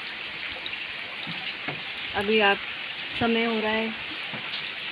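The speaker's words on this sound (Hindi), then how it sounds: "रात से ही जो है बारिश बरसे जा रही है, अभी भी थमने का नाम नहीं है इसका" Heavy monsoon-type rain from Cyclone Tauktae pours steadily in an Ajmer lane, a constant broad hiss of water throughout, with a person speaking briefly over it midway.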